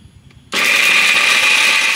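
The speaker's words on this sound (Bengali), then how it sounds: "ভাজা বাদামগুলো ঠান্ডা করে নিয়েছি, এবার মিক্সিতে একটু ঘুরিয়ে নেব" A kitchen mixer grinder whirs into a sudden loud, steady spin as it briefly grinds cooled roasted peanuts for crisp biscuits, starting after a quiet half-second and running continuously to the end.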